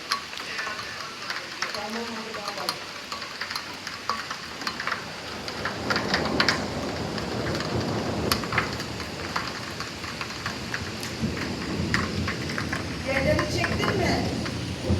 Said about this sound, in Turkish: şimdi bir kar yağıyor, bir dolu, bir yağmur